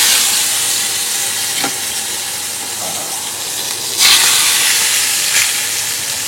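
Sliced eggplant fries in a pan with a steady, close hiss and sizzle, with occasional brief crackles and spits and no talking.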